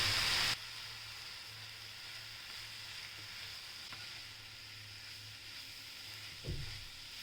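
Soaked poha being sautéed in a pan for dahi poha, a soft steady sizzle heard close but quiet, with an occasional faint stir or scrape and one brief knock near the end.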